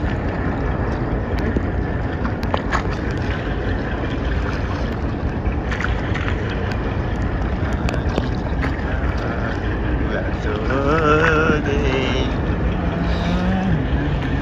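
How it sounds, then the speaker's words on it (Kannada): A Gangolli fishing boat passes on the open sea, its steady engine drone mixed with wind buffeting the microphone, while voices talk faintly in the background. "ಇದು ಗಂಗೊಳ್ಳಿ ಬೋಟ್ ಇರ್ಬೋದು ನನ್ನ ಪ್ರಕಾರ"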